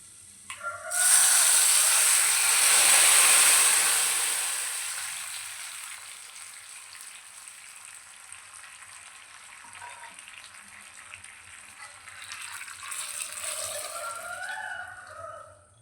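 Cooked dal poured into a pan of hot tempering, a loud burst of sizzling and spattering that slowly dies down to a softer, steady fry with light stirring toward the end.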